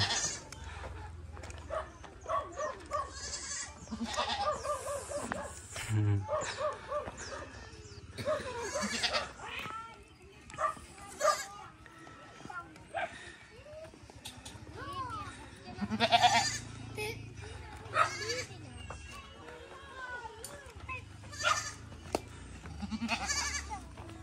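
Goats bleat repeatedly at close range in a rural village setting, with short bursts scattered through the clip alongside children's voices and people talking nearby.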